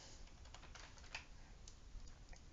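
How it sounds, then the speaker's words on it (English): Rapid, irregular clicks of fingers typing on a computer keyboard, close and steady, with a few louder key strikes and no voices. "Wow, my typing is really bad today."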